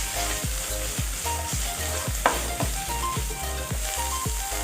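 Onion and garlic sauté in a pan for Kapampangan bringhe, with a constant loud sizzle broken by regular, rhythmic stirring scrapes about twice a second and no voices.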